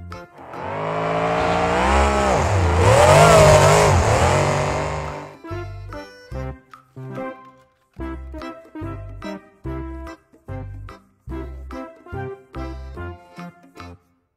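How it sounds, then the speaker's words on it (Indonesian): A toy monster truck's engine sound revs loudly and continuously for about five seconds, rising and falling in pitch, then gives way to a series of short rhythmic pulsing bursts. "Mobil truk monster."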